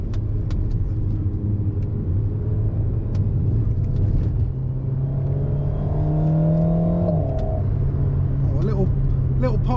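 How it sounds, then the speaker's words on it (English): The engine of a 2023 Alpine A110S drones steadily from inside the cabin, then its pitch steps as a paddle upshift lands with a small pop, and the engine pulls on at a new note. "Little pop as you change up."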